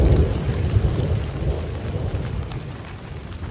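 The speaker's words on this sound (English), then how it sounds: "a big storm came rolling in as I was halfway through setting up the fire" A thunderstorm at a campsite: steady, loud rain with a deep rumbling low end, continuous and even throughout, with no voices.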